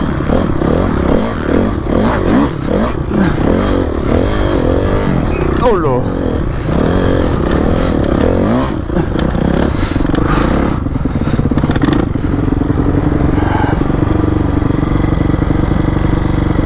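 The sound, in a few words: motorcycle riding during a training course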